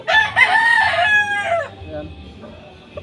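A rooster crows once, loud and close, the call rising and breaking off after about a second and a half, followed by quieter farmyard background.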